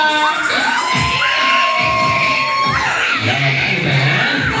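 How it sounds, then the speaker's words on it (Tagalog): A group of children shouts and cheers loudly together at a birthday and christening party, rising cries sweeping up in pitch, with scattered voices and bumps underneath. "Sumigaw ka. Gusto ko sumisigaw."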